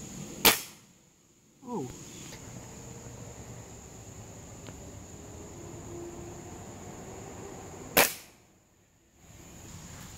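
Airgun shots fired while sighting in for squirrel hunting, two sharp cracks several seconds apart with a faint thud in between, over steady outdoor ambience.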